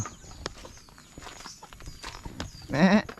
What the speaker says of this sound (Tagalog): Nandito yung alaga nating kambing.